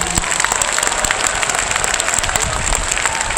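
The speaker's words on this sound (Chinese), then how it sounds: "台中市民真正做热情、做温暖的，给家己一个上热烈的掌声" An audience applauds at an outdoor theatre concert in Taichung, with dense, sustained clapping that stays loud and even throughout.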